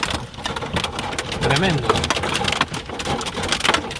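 Hail pelts down during a fierce storm in Mendoza, Argentina, a dense, loud clatter of hard impacts that rises and falls, with a brief voice exclaiming over it.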